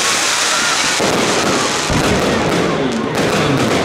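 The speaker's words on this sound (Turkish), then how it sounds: "Konser öncesinde havai fişek gösterisi yapıldı." Dense crackling bursts and booming pops of a pre-concert fireworks display in Hatay fill the air continuously, loud and overlapping, with a busy crowd-like wash beneath.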